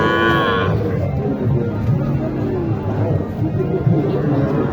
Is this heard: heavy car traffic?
no